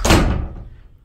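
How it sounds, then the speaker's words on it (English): A bedroom door swings shut with a single solid slam and thud up close, its boom fading quickly into a short low rumble. "Can you close my door"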